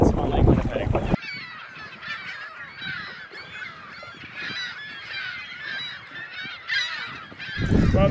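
Gray gulls calling over Lake Winnipeg on a windy open-water crossing, a dense flock of harsh honking, squawking cries overlapping continuously and fairly close, with a burst of wind or water noise at the start and end.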